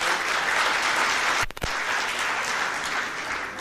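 Applause from the audience at an African trade union congress in Nairobi, a steady dense wash of clapping that runs throughout with a brief dip partway through.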